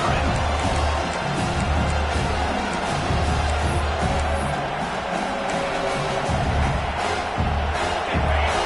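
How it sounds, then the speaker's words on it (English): A packed stadium crowd roars and cheers at a Pitt versus Washington college football game, a loud, sustained wall of noise with whoops and swells lasting throughout, a commentator's voice faintly mixed in. "This crowd, full throat, spreading the eardrums and letting him know it's going to be a long day"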